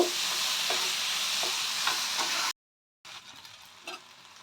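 Tomato masala fries in a pan with a dense, bright sizzle while a spatula scrapes and stirs in regular strokes. After a brief cut, a quieter sizzle with a few more scrapes follows.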